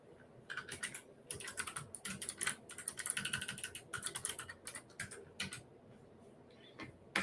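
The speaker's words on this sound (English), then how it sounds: "I'm going to actually type in" Steady typing on a computer keyboard, a run of quick soft key clicks in uneven clusters, close but quiet, fading to near silence near the end.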